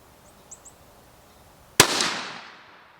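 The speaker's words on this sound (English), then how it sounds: "this first shot's just going to be the fouling shot." A single loud rifle shot from a Ruger American chambered in 350 Legend, fired as the fouling shot, cracks sharply and rings out in a decaying tail, with a few faint chirps before it.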